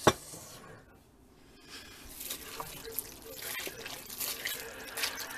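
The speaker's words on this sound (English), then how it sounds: "I first add a little bit of water to my jar to get all that juicy flavoring out." Water pours into a glass jar holding chili mac flavoring, a soft splashing trickle that swells and rises over a few seconds after a brief knock at the start, with no talking.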